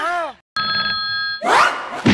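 Mobile phone ringing with a steady electronic tone that starts abruptly after a brief silence and holds loud and close, then gives way to louder noise.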